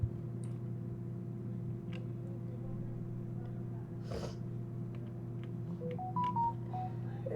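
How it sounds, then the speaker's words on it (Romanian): A phone rings faintly during a Roblox gaming session, a short run of stepped electronic ringtone notes near the end, set against a steady background hum and low room noise. "mi-a sunat telefon"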